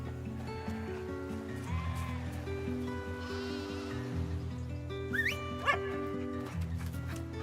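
A dog barks a few times over cheerful game music in a sheep-herding video game, mixed with bleating sheep and other synthetic animal sounds.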